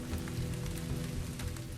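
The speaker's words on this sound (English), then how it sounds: "The monsoon winds drive the moisture-laden clouds across the land, bringing with them a torrential downpour." Torrential monsoon rain pours down in a dense, continuous roar of water striking surfaces, loud and unbroken.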